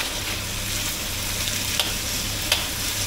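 Braised pork pan-frying over a gas stove in Thailand gives an even, steady sizzle with a low background hum and two brief soft clicks from a utensil.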